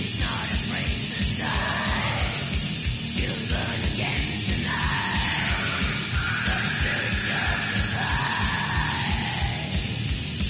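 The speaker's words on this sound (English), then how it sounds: "He sure does have a good voice for that black metal sound." A black metal song playing loud and dense, pounding drums and distorted guitars under harsh shouted vocals.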